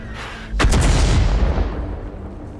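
Artillery fire in World of Tanks, a single sharp, heavy boom with a quick double crack that rolls off into a fading rumble over about two seconds, loud and alone.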